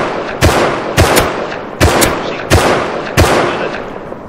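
Five loud, sharp gunshot bursts from Rust gameplay, firing in a steady rhythm roughly every three-quarters of a second, each with a short crackling tail over constant background game noise.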